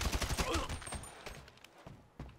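Gunfire in the GTA 5 video game, a rapid burst of shots that thins into a few scattered ones, loud and close, with a voice faintly present underneath.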